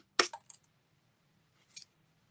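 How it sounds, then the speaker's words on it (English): Scissors snip a small triangle from scored paper for a Christmas mini album: a sharp close cut, two quick follow-up snips, then a lone faint snip after a quiet pause. "Now we take the scissors and I'm going to cut a triangle where the 2 score lines meet."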